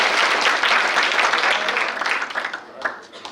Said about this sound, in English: So help give a round of applause